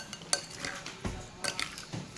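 Kinilaw, a raw fish dish, is being mixed in a bowl with a utensil, producing faint, irregular clinks and soft scrapes close by over a couple of seconds.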